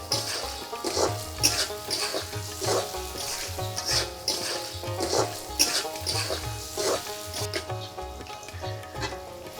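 Onions with green chillies fry in a pan, a soft continuous sizzle under repeated scraping and stirring strokes, close and moderately loud, with faint background talk.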